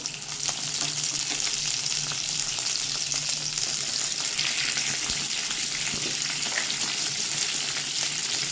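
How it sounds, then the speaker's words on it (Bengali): Pointed gourd (potol) frying in a pan, an even, hissing sizzle with occasional soft stirring knocks, close up and continuous with no one talking. "পটলটা কাঁচা থাকবে, একটু নরম হয়ে যাবে ভাজতে ভাজতে"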